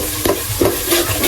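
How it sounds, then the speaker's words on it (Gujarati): Oil and chilli fry in a pan for a Gujarati seafood dish of fish and lepta, with a steady close sizzle and three or four sharp stirring scrapes. "તેલ મરચું જો પાકે છે"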